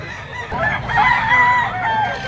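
A rooster crows close by, one drawn-out cock-a-doodle-doo with a rising and falling tone, over a faint low background hum.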